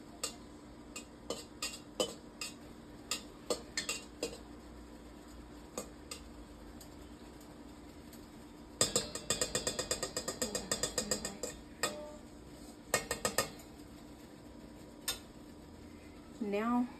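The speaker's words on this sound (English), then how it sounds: "And you're just gonna stir that in." A spoon stirs a body butter mixture in a pot on a stovetop, with repeated close metallic clinks and scrapes. The clinks come in scattered taps at first, then in a busy run of stirring. No one speaks.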